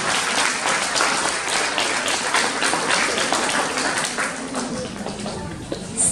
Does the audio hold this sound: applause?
yes